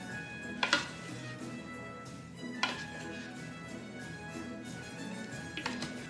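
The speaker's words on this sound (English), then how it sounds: "Okay, one final mix." Panzanella salad with olive oil and basil is tossed in a bowl, giving three separate clattering clinks of utensils against the bowl over a quiet background.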